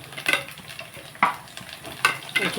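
Spoon stirring chopped coriander into ragi upma in a pan, with soft scraping strokes and brief sizzling bursts at irregular intervals, close and alone without voices.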